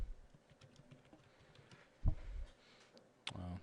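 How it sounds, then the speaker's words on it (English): A command is typed on a computer keyboard, making faint, quiet key patter with a couple of louder clacks, up close and without voices. "Now let's type in like sudo apt-get"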